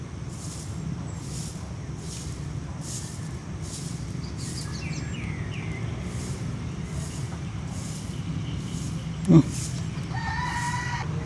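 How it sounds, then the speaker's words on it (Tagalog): Birds call faintly in the distance on a foggy mountain campsite, including a crowing fowl, over a steady outdoor hum and a rhythmic pulsing buzz. "may ibon"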